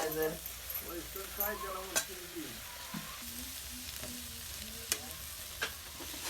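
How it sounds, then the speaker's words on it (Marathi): Potatoes hiss and crackle in a hot wok over a wood-fired stove as a utensil clinks against the metal a few times, with a voice speaking faintly in the background. "बिगर त्याला कढई मध्ये बटाटे टाकले"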